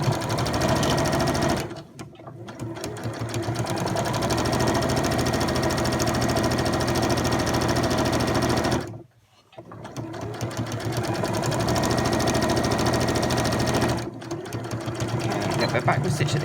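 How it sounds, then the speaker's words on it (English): A sewing machine stitches bias binding onto a scrubs gown, running in a loud, steady mechanical whir that pauses briefly twice before starting again. "and then I'm going to just stitch this down."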